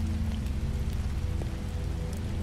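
Steady rain falls in the video game The Wolf Among Us, a continuous even hiss over a low rumbling bed, with no voices and no breaks.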